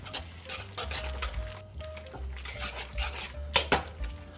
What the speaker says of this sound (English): the key here, guys, is you gotta stir and keep stirring.